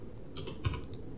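Keyboard shortcuts tapped on a computer keyboard: a few quick, light key clicks bunched in the middle of a quiet second, close and soft against faint room hiss.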